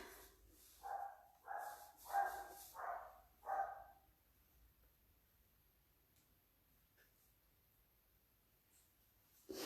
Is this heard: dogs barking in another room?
yes